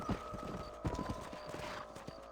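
In Red Dead Redemption, a horse moves along with rhythmic clip-clop hoofbeats, irregular rather than a full gallop, fairly close and moderately quiet, with a short whinny mixed in over faint game ambience.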